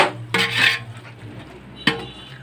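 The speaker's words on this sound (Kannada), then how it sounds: "ಟೊಮೆಟೊ ಹಾಕ್ಕೊಂಡು ಈ ಥರ ಮತ್ತೊಮ್ಮೆ ನೀವು ಮಿಕ್ಸ್ ಮಾಡ್ಕೋಬೇಕು" A metal spoon scrapes and clatters in a pot as tomatoes are stirred into a biryani mixture, with two distinct bursts of stirring separated by a quieter pause.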